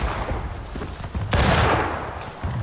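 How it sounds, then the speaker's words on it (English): In the War of Rights video game, a musket volley cracks out in a dense, rolling burst of gunfire over a continuous noisy battlefield background, with one sharp close report followed by a lingering echoing rumble. "Fire at will, gentlemen."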